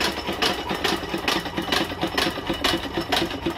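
A New Holland hit-and-miss engine runs close by with a steady, rapid mechanical chugging, each beat a sharp repeating knock in an even rhythm, loud and alone with no talk.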